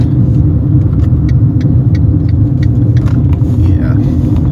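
A car being driven gives a constant low engine drone and road rumble, loud and steady throughout, with faint clicks and rattles from the cabin on top.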